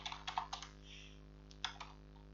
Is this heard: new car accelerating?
no